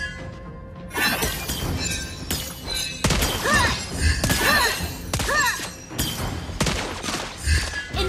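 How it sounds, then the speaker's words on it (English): Loud video game battle sounds as a turret is destroyed: repeated shattering crashes and thuds in rapid bursts over a dense, continuous din of effects. "Your team destroyed a turret."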